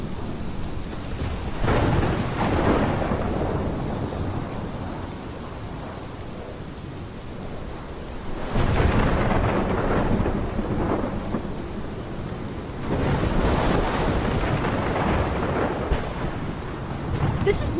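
Thunderstorm in the game Life is Strange: heavy rain hisses steadily throughout while several loud rolling thunder crashes swell and fade, with no voices.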